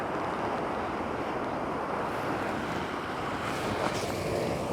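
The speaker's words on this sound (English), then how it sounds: "it looks like the biggest waves aren't going to reach me up here" Ocean surf rolling in at a rocky shore during a sunrise landscape shoot, with steady wind buffeting the microphone; a continuous, loud wash of breaking waves and broadband roar without pauses and no voices.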